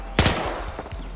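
Gunfire in Battlefield Hardline, with a sharp loud shot near the start followed by a few fainter, quicker reports trailing off.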